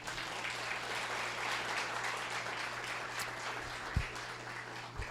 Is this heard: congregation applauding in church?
yes